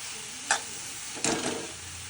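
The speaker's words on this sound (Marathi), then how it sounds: "एकीकडे दूध गरम होतंय आणि एकीकडे आपलं हे गाजर शिजते व्यवस्थित" Grated carrots for gajar halwa cooking in a pan over a low flame, a soft continuous hiss with two brief stirring scrapes, quiet and close.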